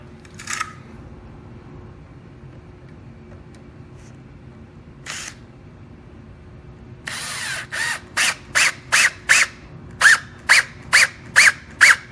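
A power drill drives pocket screws into wooden boards during a greenhouse build: a few isolated short bursts, then a rapid series of about ten even, sharp pulses close up, without speech.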